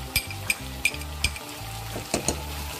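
Ginger garlic paste fries in a pan with a soft, continuous sizzle, punctuated by regular sharp clinks and scrapes of a spoon stirring against the metal.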